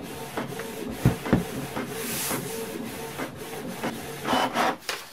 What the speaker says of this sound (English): I printed that page pretty quickly